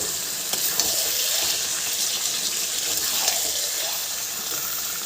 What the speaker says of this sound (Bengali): চিকেন কষানো হয়ে গেছে এবার দিয়ে দিলাম জল